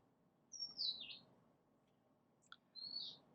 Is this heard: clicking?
no